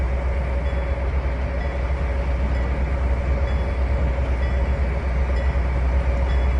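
A train rumbles along continuously in Trainz 2019, a loud, steady low engine drone with rail noise and faint periodic clicks, no voices present.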